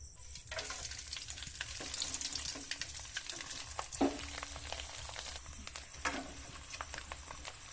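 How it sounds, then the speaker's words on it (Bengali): Thin slices of coconut fry in oil for homemade chanachur, giving a steady bright sizzle with scattered crackles and soft stirring scrapes close by. No voices. "এই নারকেলগুলো ভেজে নেব হালকা করে।"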